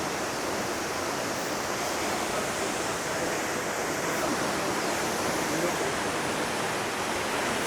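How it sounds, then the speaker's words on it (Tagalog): Katibawasan Falls in Camiguin roars as a constant, dense wash of falling water, loud and unbroken throughout. "Ayan yung Katibawasan Falls"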